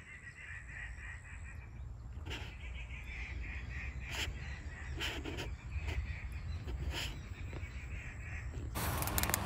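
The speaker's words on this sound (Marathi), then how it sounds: "विविध प्रकारच्या पक्ष्यांच्या आवाजाने इथला परिसर पूर्णपणे मंत्रमुग्ध झालेला आहे" Assorted birds calling in a forest, crows among them, with sharp calls scattered over steady outdoor ambience and a noisy burst near the end.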